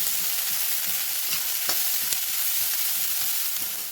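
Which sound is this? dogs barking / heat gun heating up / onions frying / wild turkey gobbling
onions frying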